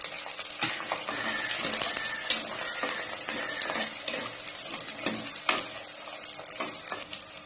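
Garlic, shallots and curry leaves sautéed in hot oil for vatha kuzhambu, a loud continuous sizzle broken by sharp spoon scrapes and clacks against the pan, with no voices.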